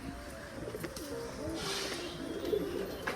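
Rajshahi pigeons cooing nearby, soft rolling coos repeating several times over a faint background hiss, with a brief brighter rustle in the middle.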